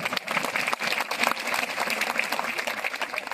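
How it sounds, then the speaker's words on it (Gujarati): Steady, dense applause from an audience clapping together for birthday wishes, continuous and fairly loud across the whole moment. "આપણે બધે તાળીઓ પાડીને એમના જન્મદિવસની શુભેચ્છાઓ પાડવી"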